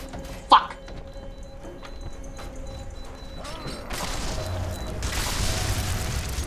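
Explosions and gunfire in the shooter game F.E.A.R. 3 burst out as a sharp close blast, followed by rumbling debris, mechanical clanks and a rising wash of noise, with no voices over it.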